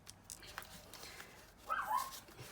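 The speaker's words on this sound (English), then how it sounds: "that's my little puppy having a little bark" A small puppy gives a brief, faint bark with a short whimpering yip, heard at a distance in a quiet indoor setting.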